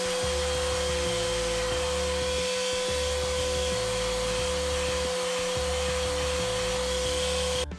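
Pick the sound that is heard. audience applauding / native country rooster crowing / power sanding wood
power sanding wood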